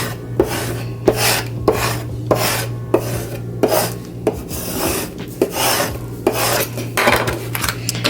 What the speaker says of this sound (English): scrape the back. This is to be sure that the vinyl is transferred to the transfer tape